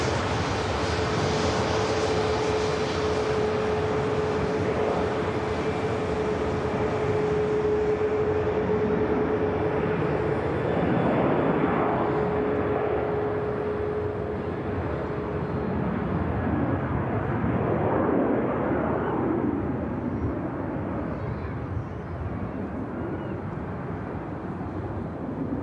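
A Ryanair jet airliner departs an airport on a flight to Alicante, its engines giving a loud, sustained broadband roar with a steady whine. The roar gradually dulls and thins toward the end as the aircraft pulls away, with no talking.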